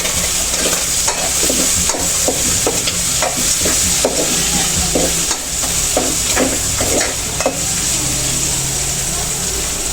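Meat sautéing for monggo in a pan, a continuous loud sizzle broken by repeated scraping stirs at a steady pace, close up, with no speech over it.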